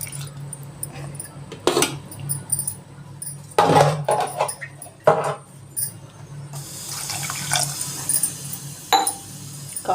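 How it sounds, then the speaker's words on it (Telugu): Water poured from a glass into a pot of mutton mulakkada curry, with a few clinks of glass and metal and bursts of running water, some louder than others. "కొద్దిగా 1/2 గ్లాస్ వాటర్ వేసేద్దాము"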